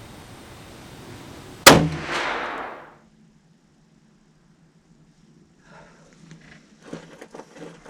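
A single loud deer rifle shot rings out close by with a sharp crack and a ringing, decaying echo, followed by near silence and then faint rustling handling noises.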